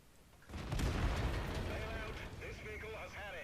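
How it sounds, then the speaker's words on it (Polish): Artillery fire in a tank battle game with the FV4202 tank: a sudden heavy boom rolls in after a quiet start and decays into a long, rumbling wash of battlefield noise. "No i oczywiście artyleria"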